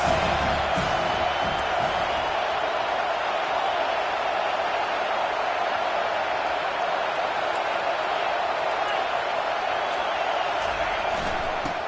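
A college football stadium crowd roars continuously at full volume, a dense, steady wall of cheering and yelling with no breaks.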